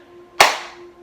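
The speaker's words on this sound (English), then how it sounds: "clapping above your head" One sharp hand clap above the head during a stretching session rings out close by, with a brief fading tail.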